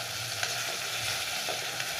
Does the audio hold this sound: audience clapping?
no